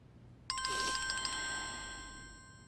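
A bright electronic telephone ringing tone starts suddenly and sustains with a steady chime, fading slightly over a couple of seconds, with no one talking.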